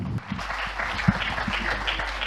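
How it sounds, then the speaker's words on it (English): Brief burst of audience applause at a game developers' event in India, a dense patter of clapping with a low background hum, lasting a couple of seconds. "give a big round of applause to the game developers of India"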